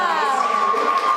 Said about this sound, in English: The crowd very happy with that decision. Some squeals happening behind me.